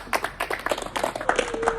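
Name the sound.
clapping for the race winner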